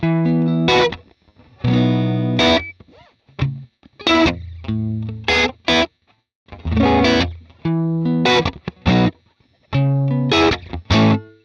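An electric guitar plays a clean, bright tone through a Valeton GP-200 multi-effects unit, with chords and single notes in an unhurried rhythm and short gaps between phrases.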